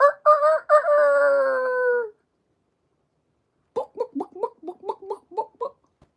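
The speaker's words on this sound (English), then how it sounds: "Is that the rooster?" A rooster crows loudly and close, one long drawn-out call, followed after a pause by a run of quick, bouncy clucking or giggle-like bursts.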